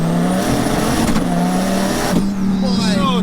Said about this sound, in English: Oh man, this is a scary car.